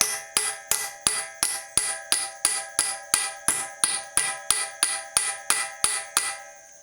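Hammer strikes pound on a U-joint of a 1960 Ford F100, about eighteen sharp metallic blows in an even, steady rhythm, each ringing briefly, loud and close.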